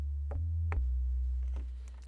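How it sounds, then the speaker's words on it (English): A synthetic 808-style sub bass from an Alchemy preset in Logic, built from sine waves with light modulation, booms deep and sustained, with two short retriggered hits early and a long decaying tail. "So we could go for something that's like a synthetic 808."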